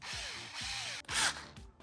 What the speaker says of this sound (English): all we're gonna do is just drill it into this hole here